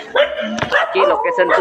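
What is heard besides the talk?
dogs barking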